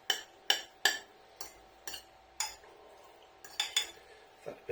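A metal utensil clacks and scrapes in a pan while noodles with soy sauce are stirred, giving a series of sharp, irregular clinks, some in quick clusters, close and clear with no talking.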